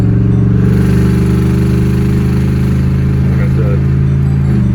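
A cammed 2006 Chevrolet Monte Carlo SS drives with a loud, steady, deep engine rumble heard from inside, while someone talks over it.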